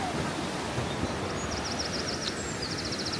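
River water runs below Devil's Bridge, heard as a dense continuous rushing wash, with faint high bird-like chirps flickering over it.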